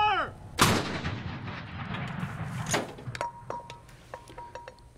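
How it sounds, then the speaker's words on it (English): A ceremonial cannon fires at Brooks Parade Field, Fort Knox, in tribute to President George H.W. Bush: a loud boom with a rolling echo, a second boom, then light metallic clinks and mechanical handling. "Fort Knox paid tribute to the life of President George H.W. Bush today by firing a cannon at Brooks Parade Field"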